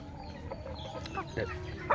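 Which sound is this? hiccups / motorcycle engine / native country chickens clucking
native country chickens clucking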